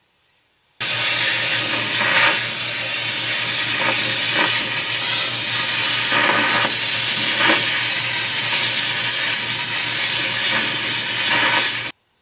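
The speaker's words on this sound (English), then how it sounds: "add the remaining metal and melt it too." A torch roars steadily as it melts metal for casting a ring, a loud continuous hissing flame that starts abruptly and cuts off near the end.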